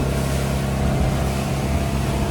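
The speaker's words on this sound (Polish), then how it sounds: "jesteśmy właśnie na łódce. Płyniemy w cztery fajne spoty dookoła wysp" A small private boat's engine drones steadily and loudly on a ride around islands in Vietnam, a constant, close, rumbling hum with splashing and wind noise mixed in and no talk.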